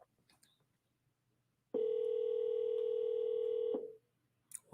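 A single long, steady electronic ring tone from an outgoing telephone call, lasting about two seconds in an otherwise quiet room, with faint sounds before and after.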